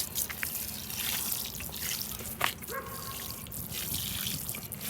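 Water pours and trickles onto garden seed trays, a steady splashing wash with scattered drips that stays fairly soft and close throughout.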